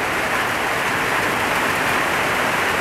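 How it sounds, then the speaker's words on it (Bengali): Heavy night rain falls in Gaibandha, Bangladesh, as a dense, steady roar of drops hitting surfaces. It is loud and unbroken, with no voices. "তো এখন বৃষ্টির প্রবণতাটা আস্তে আস্তে বেড়ে যাচ্ছে।"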